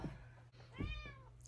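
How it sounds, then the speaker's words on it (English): A house cat on a bed lets out two soft meows, the second longer and more tonal, close by but fairly faint against a quiet room hum. "she's on my bed, so if you guys hear meowing"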